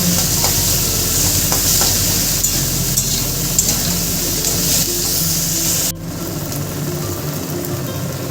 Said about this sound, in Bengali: আদা বাটা, রসুন বাটা দিয়ে একটু কাঁচা কাঁচা ভাবটা যাওয়া পর্যন্ত রান্না করব।